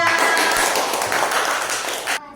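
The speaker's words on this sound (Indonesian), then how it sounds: "Tepuk tangan buat kelompok 3." A class gives a group of students a round of applause. Brisk, dense clapping fills the room at close range, then cuts off abruptly at the end.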